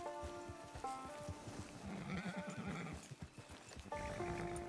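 A horse in Red Dead Redemption 2 gives several whinnies and snorts over a close, steady clip-clop of hooves on the ground, with a last neigh near the end.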